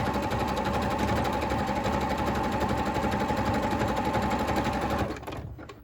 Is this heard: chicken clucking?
no